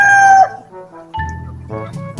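A rooster among fighting cocks on a farm gives a short, loud crow that breaks off abruptly, followed by a few nearby clucks and fowl calls.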